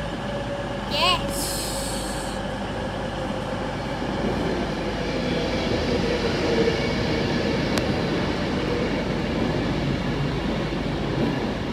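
A long train rolls past at a station in Stockport, a steady broad rumble with faint wheel clatter and squeal that holds throughout, with brief talk and a few distant chirps early on.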